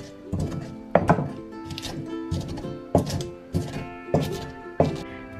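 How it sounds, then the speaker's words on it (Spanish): Garlic cloves are pounded in a stone molcajete, about eight hard, close knocks at an uneven, unhurried pace, each a short dull thud with a gritty crunch. "lo voy a machacar aquí en el molcajete"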